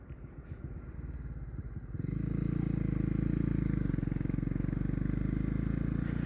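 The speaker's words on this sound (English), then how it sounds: "It's a nice deep, you know, sounding growl, reminiscent of the older generation bikes." A Honda CB150R ExMotion motorcycle engine idles, then settles into a steady deep, throbbing growl that holds evenly, heard alone at moderate volume on a quiet road.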